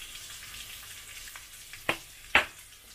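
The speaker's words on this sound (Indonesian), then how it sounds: "Kita tumis sampai baunya harum." Spices with turmeric powder, ground pepper and galangal sauté in oil for a lemper chicken filling, a soft steady sizzle punctuated by two sharp utensil clicks near the end.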